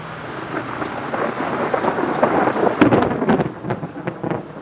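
Thunderstorm outside a Cracker Barrel restaurant in Pigeon Forge, Tennessee, with steady rain hiss and rumbling thunder, plus a sharper crack near the end; moderately loud, no talking.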